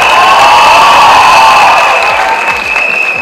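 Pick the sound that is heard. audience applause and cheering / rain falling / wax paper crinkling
audience applause and cheering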